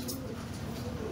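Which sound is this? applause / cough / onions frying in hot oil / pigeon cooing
pigeon cooing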